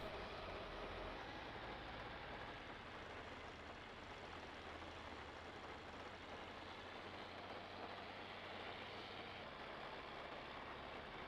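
Small orange tractor engine in Farming Simulator 19, an old and dirty machine straining against being stuck, giving a continuous low rumbling drone with broad mechanical noise, steady and unbroken throughout with no talk.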